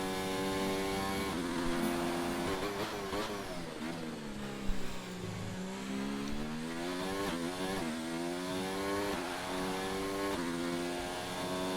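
A Formula 4 race car engine held at full throttle with no lift, a sustained high-pitched wail whose pitch dips and climbs through gear changes, steady and fairly distant.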